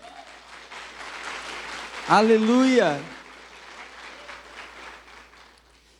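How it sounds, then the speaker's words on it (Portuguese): A church congregation applauds during a Sunday morning water-baptism service, steady dense clapping running throughout, with a voice loudly exclaiming over it for about a second midway. "Podemos aplaudir Jesus por isso?"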